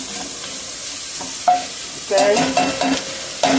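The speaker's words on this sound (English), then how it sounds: "So I just add my sage sausage to it." Sage sausage hits a chili pot with a steady bright sizzle, broken by louder stirring scrapes and clatter toward the end; someone speaks a single brief word.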